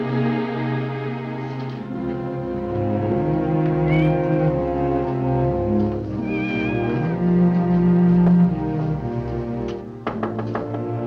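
A cat meows a few times, drawn-out and wavering, over a loud, steady orchestral score that fills the whole stretch.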